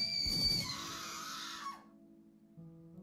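Screaming in the video game The Letter, a brief high squealing cry about a second and a half long that cuts off sharply, followed by a low steady hum.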